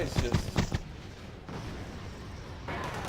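Tracer machine gun fire in the Wargame Red Dragon strategy game rattles as a few sharp bursts early on, then fades into a low distant rumble of battle, fairly quiet overall.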